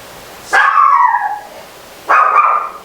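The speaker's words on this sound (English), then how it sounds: "It's my dog." A pet dog gives two loud, close barks drawn out into whining yelps, the first lasting nearly a second and the second following after a short pause, with no talking.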